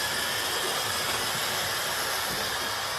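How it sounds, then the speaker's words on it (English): Steady hissing and rumbling of Hornby model Midland Railway coaches running along the track through a station, continuous and even with no voices. "our Midland Railway coaches are running quite well now through the station"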